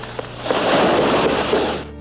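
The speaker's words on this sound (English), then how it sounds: "Eventually, there was a barrage of gunfire." A dense burst of rapid gunfire cracks and booms over about two seconds, loud and continuous before cutting off.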